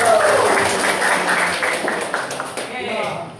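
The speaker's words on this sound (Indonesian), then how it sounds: "Yuk kita tepuk tangan dulu ya biar semangat." Classroom students clap their hands together in a brief burst of group clapping, mixed in with voices from people speaking nearby.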